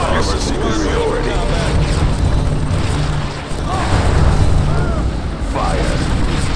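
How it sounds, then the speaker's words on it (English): A Tiberium explosion in Command and Conquer 3: Tiberium Wars during the Nod campaign: loud, continuous booming rumble and crackling battle blasts, with a voice speaking over the din. "Tiberium explosion detected"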